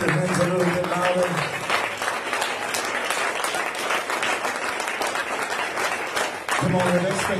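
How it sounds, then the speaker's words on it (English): A church congregation claps hands in a dense, sustained burst of applause filling the room, steady and loud for several seconds, with a voice speaking over it at the start and end. "Come on, can you clap your hands a little bit louder?"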